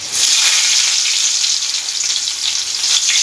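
Chopped ginger and garlic fry in a little oil for a jackfruit Manchurian, producing a loud, close, unbroken hiss of sizzling with no voices over it.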